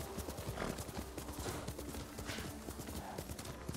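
Horse hooves clatter in a quick, steady rhythm on hard ground, close and continuous, with faint voices in the background, while riding in the video game Ghost of Tsushima.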